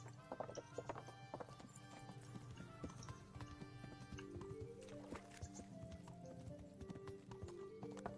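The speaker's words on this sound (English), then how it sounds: "I wonder whether I'll get told off for riding a horse through the town." Steady clip-clop of horse hooves at a trotting rhythm through a town in the video game Kingdom Come: Deliverance, with a neigh and bright musical tones over it, fairly quiet.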